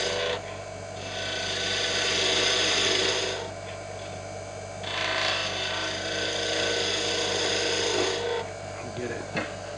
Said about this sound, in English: And again, I'm just going to use the skew.